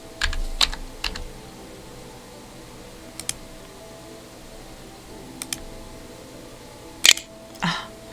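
Scattered keystrokes on a computer keyboard, sharp isolated clicks and a few quick clusters spread over a quiet, hissy background, close and fairly faint, with no talking.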